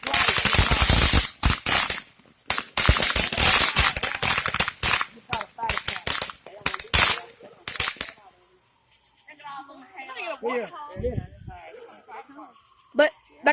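Firecrackers and fireworks from a backyard firework show burst in a rapid, loud string of sharp cracks and pops for about eight seconds. A sparser tail follows with voices and a few last pops.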